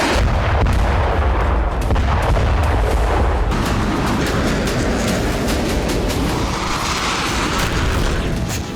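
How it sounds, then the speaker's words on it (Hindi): Loud, rumbling blasts and sharp cracks of ballistic missile and drone launches and explosions over the Red Sea pile up in a dense, continuous roar, heavy at first and thinning slightly toward the end. "हूती ने लाल सागर में इसी तरह एक के बाद एक कई बैलिस्टिक मिसाइलें और ड्रोन दागे"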